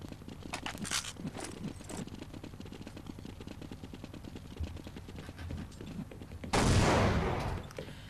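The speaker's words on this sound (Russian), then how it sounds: "Эдик смотрит центр с АВП, промахивается своим первым выстрелом." Rapid bursts of gunfire from a professional Counter-Strike esports match, followed by a loud, sustained blast near the end, with no voices.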